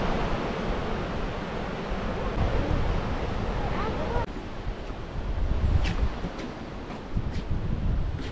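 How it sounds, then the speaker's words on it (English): Steady wind on a beach at Saulkrasti roars across the microphone with a broad rushing hiss, with surf-like wash underneath and brief faint sounds later. "It's very windy"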